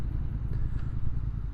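Motorcycle engine running at moderate RPM, around 3,800, a steady low throbbing rumble heard close and continuous.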